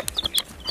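A few short, high peeps from small chicks sound in quick succession, close by, with no voices.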